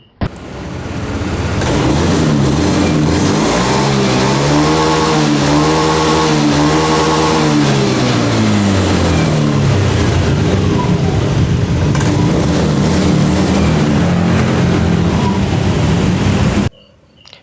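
A Honda Beat FI motor scooter with a faulty O2 sensor starts up and revs, the pitch rising and falling a few times, then settles into a steady close idle before cutting off.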